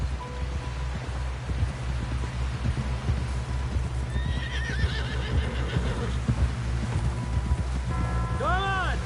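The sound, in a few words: horse galloping, from video game Red Dead Redemption II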